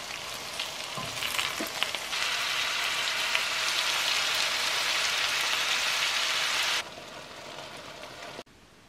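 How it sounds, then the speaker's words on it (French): Vegetables sautéing in a pan with a coconut milk sauce give a dense, rain-like sizzle that rises, holds steady and then drops sharply to a quieter hiss, with a few faint clinks early on. "je vais faire sauter ça avec une préparation au lait de coco"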